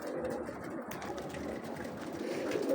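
Pigeons cooing inside a loft, soft low murmuring coos repeating close by at a steady, quiet level.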